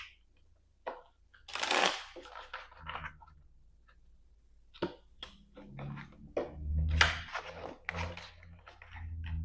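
Tarot cards being shuffled by hand, with several loose riffling and sliding bursts interspersed with soft taps and pauses, close and moderately quiet.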